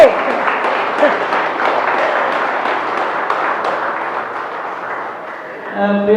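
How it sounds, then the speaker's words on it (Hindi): Audience applause in a hall for the speaker, dense and steady for about six seconds, then tapering off as crowd noise and a voice begin near the end. "तालियां बजा ही दीजिए सर की इस बात पे, सभी"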